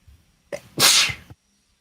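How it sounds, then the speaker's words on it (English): A single loud sneeze with a short inhaled build-up, then the sharp burst, close and alone in a quiet room. "I think I'm about to sneeze."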